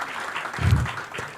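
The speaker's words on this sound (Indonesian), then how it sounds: "Berikan tepuk tangan kita untuk Tuhan kita." Congregation applause in a church, a brief, moderate burst of many people clapping with a low thump in the middle, and no talking over it.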